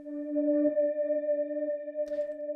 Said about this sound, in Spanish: Luego tengo otra onda senoidal, pero está una octava más arriba.